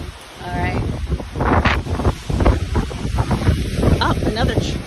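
Strong storm wind gusting hard against the microphone in a heavy Katy storm, a loud roaring buffet that rises and falls in surges, with people talking over it.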